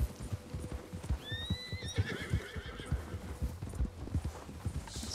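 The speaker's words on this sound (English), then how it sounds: "Horse." A horse neighs in Red Dead Online, a rising and falling whinny near the middle, over steady hoof clip-clop and footsteps throughout.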